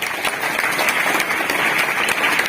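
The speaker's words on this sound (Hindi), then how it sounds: "इस भीड़ से संबंधित जो भी यहां अभिभावक उपस्थित है उनके जोरदार ताली बजाओ।" Audience applause for parents at an institute's motivational speech event: dense, steady clapping from a large crowd, sustained without a break and fairly loud throughout.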